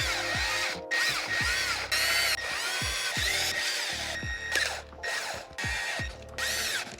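Power tool bursts, likely an electric drill or driver, run down bolts while a Corvette engine is assembled in a workshop, with bolts tightened to 25 foot-pounds. Short whirring spins repeat in roughly eight close, loud bursts, each separated by a brief pause.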